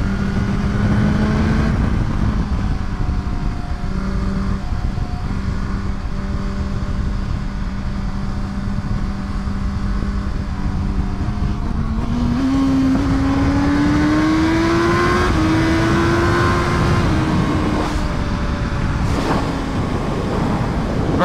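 A BMW HP4 Race motorcycle engine while riding: a loud, steady, close drone that rises in pitch as the bike accelerates, with the engine noise continuous throughout.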